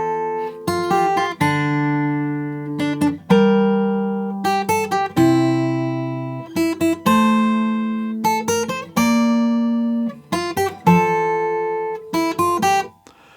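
Fingerstyle acoustic guitar in standard tuning picking a video game theme, clear plucked melody notes over held bass tones in a steady rhythm, close and solo with no talking.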